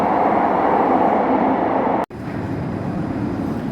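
Steady rushing rumble of a metro train running on its tracks, loud and continuous, with a brief dropout partway before the roar resumes.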